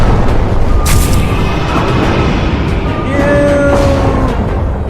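A starship ramming an enemy vessel in the space strategy game Halcyon 6: a loud, dense booming roar with a sharp crack early on, sustained rumbling and a few thin whining tones over the top, all continuous and close.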